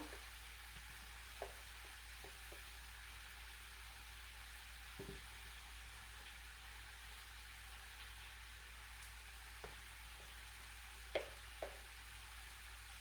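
Prawns and courgette pasta fry in a pan with pesto stirred in, giving a faint, steady sizzling hiss with a few soft scrapes and clicks from stirring.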